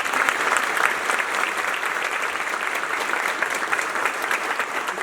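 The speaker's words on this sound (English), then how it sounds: "So please, a round of applause for the" An audience at a university commencement ceremony applauds the faculty with dense, sustained clapping from a large crowd that stays loud and even from start to finish.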